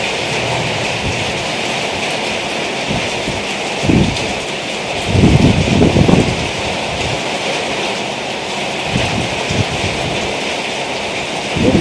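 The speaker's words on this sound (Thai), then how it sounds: "ฝนตกแรงขึ้นแรงขึ้นแล้วนะครับ" Steady heavy rain roars throughout, with a few louder low rumbles and gusts swelling in the middle and near the end.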